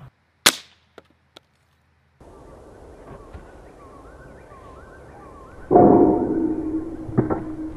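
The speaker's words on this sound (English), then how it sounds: "Shooting peanut butter was fun" Machine gun fired at a jar of peanut butter outdoors: a single loud close shot, a few faint cracks, then a steady rumble and a louder burst of noise with a late thump.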